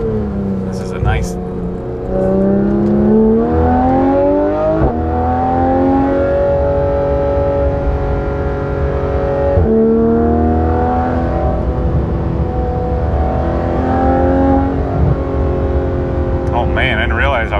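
Porsche GT3 RS flat-six with Dundon race headers and full exhaust, driven hard on a freshly paved winding road, loud and close with rising and falling engine harmonics through repeated upshifts and rev swings, continuous throughout.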